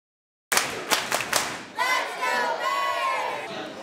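A crowd of Hershey Bears hockey fans at a watch party in the Bears Den at Hershey Lodge, with sharp claps and thumps followed by loud, sustained cheering and yelling close by.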